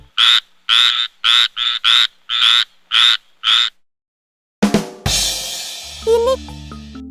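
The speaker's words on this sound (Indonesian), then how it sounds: "katak pohon." A tree frog croaks in a fast run of loud, rasping pulses, close by, then falls silent before other noise starts.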